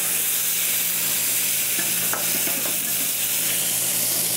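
Crown Royal whisky poured into a hot pan with steak medallions and demi-glace, giving a loud, even sizzle with stirring scrapes and small clinks and no voices over it.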